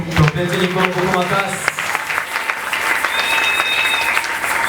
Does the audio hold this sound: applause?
yes